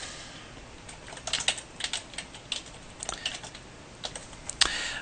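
Keys on a computer keyboard clatter in quick, uneven bursts of taps, close and fairly quiet, with short pauses between runs, and no voice.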